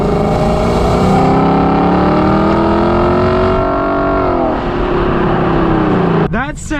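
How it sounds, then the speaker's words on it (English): A 2020 Lexus LC 500's V8 engine roars loudly and steadily close by, its pitch drifting up and then dropping before a sharp, rising rev burst ends the run. "That is by far one of the best sounding engines, and I mean for a V8, oh my goodness, it sounds incredible."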